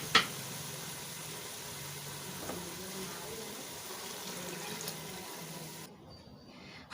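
Two and a half glasses of water pour into roasted moth beans in a pot, a faint continuous gush and splash running for several seconds before cutting off abruptly.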